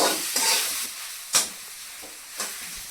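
Khichdi is stirred in a hot pan after salt goes in, with a constant hissing sizzle and a few sharp scraping strokes of the spoon. No voices.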